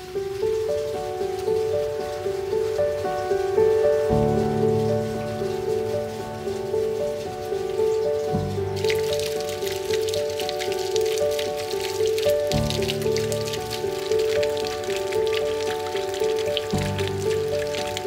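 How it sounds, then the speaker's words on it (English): Rain falling, a steady continuous patter throughout, with a constant tonal hum and occasional sharper shifts in the texture, fairly loud and unbroken. "It was raining and we thought it was in for the day, as you saw the rain"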